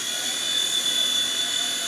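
An H911 iRocket RC helicopter hovers and turns with its tail rotor spinning, a loud, steady high-pitched whine close by with no break.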